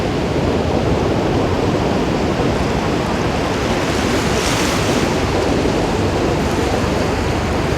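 Ocean surf at sunrise rolls in as a dense, continuous wash of breaking waves, loud and close, with wind buffeting the microphone and no voices.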